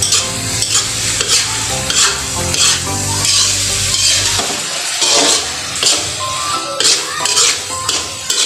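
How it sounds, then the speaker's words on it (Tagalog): Garlic fried rice (sinangag) being stirred in a frying pan gives a close, loud sizzle with repeated scraping and tapping of a utensil against the pan, while a person speaks over it early on. "Haluin lang po natin."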